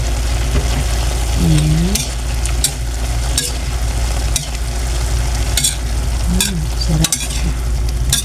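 Sautéed bean sprouts with tofu are stirred in a sizzling pan, with steady frying hiss and repeated sharp scrapes of a spatula against the pan. A voice speaks briefly.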